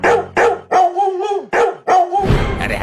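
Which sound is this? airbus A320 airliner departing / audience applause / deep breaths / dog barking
dog barking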